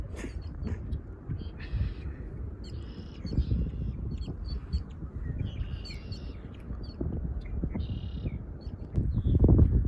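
A crow calls with several short, scattered caws at moderate distance over outdoor ambient rumble near a canoe trail.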